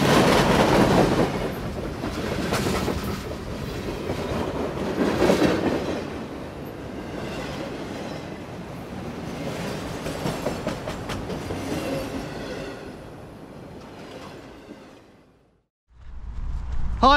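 A train passing close by on a railway, a loud rolling rumble with rhythmic clattering wheels that fades away, then a brief sharp sound at the end.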